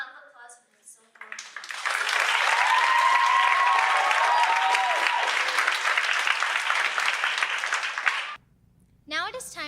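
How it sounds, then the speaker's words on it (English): An audience claps warmly after a veena solo at a Carnatic rangapravesam recital, the applause swelling to a steady roar for several seconds before cutting off, with a brief spoken announcement before and after. "Please give Anish a round of applause for his solo"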